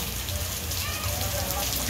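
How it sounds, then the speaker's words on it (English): Warm rain pouring steadily in a neighborhood yard, a dense continuous hiss close by throughout. "It's warm rain, it's not cold."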